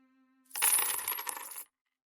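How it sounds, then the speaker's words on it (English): Coins dropping in an arcade machine, a single continuous metallic clatter and jingle lasting about a second, loud and close, starting and stopping abruptly in an otherwise silent space. "Coins dropping."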